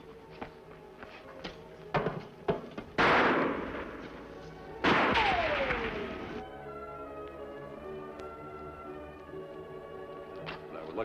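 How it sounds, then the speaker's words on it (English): Several sharp gunshots crack out in a western TV show, a few scattered reports followed by two heavy, echoing blasts, with dialogue around them. "That was lucky shooting, ma'am."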